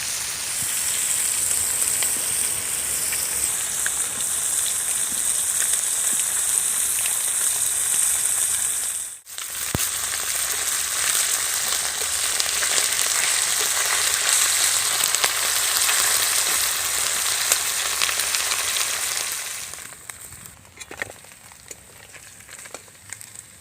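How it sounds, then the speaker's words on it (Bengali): Khoira river fish sizzling and crackling in hot oil, a dense steady frying hiss that breaks off briefly, resumes, then fades quieter near the end. "একই রকম করে বাকি মাছগুলো আমি ভেজে নেব।"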